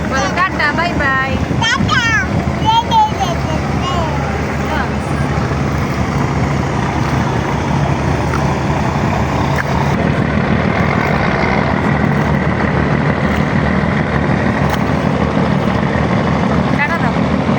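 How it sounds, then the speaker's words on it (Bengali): A passenger launch on the river at Sadarghat, Dhaka, rumbles with a steady, heavy engine drone, busy waterfront noise mixed in. Voices talk over it throughout. "এখন যে লঞ্চটি দেখতে পাচ্ছেন, এটিও একটি যাত্রীবাহী লঞ্চ।"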